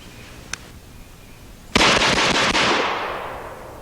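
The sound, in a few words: gunshots from a low-recoil gun being test fired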